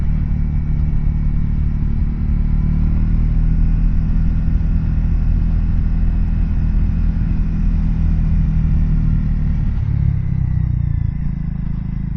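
Steady, loud engine drone and rumble from a Triumph Scrambler 400XC motorcycle climbing a wet, twisty hill in third gear, held nearly constant with a slight drop in pitch near the end.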